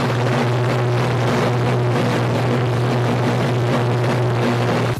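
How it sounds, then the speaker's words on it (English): An aircraft on the ground at high-power engine run-up roars loudly and steadily, a deep droning hum with a strong low tone and broadband rush that holds constant throughout. "This plane doing an engine run accidentally tore down a brick wall and a palm tree behind it."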